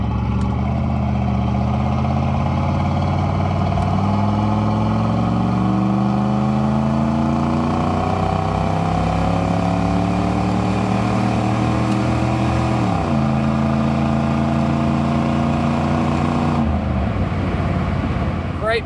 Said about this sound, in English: Great power from that 350. The transmission shifts exactly like you want it to.